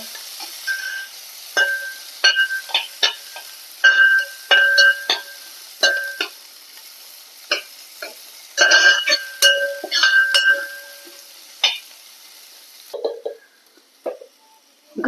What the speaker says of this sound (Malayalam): എല്ലാം കൂടി നന്നായിട്ട് വഴറ്റിയെടുക്കുക